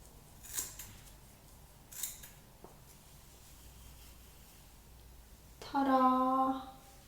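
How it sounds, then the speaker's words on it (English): Hair thinning scissors give two soft, crisp snips through hair a moment apart against a quiet room, and a brief voice follows near the end. "I'm just going to use hair thinning scissors to do it."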